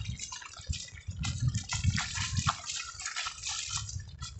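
Water from an overflowing spring runs across a farmhouse yard during summer rain, with a close trickling, gushing flow that surges and splashes unevenly at moderate loudness.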